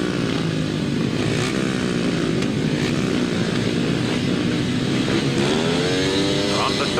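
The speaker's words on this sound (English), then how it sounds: "the revs rise" Several grasstrack racing motorcycles rev hard together at the start line, a loud, continuous layered engine roar with rising and falling pitch sweeps and crowd or commentary noise mixed in.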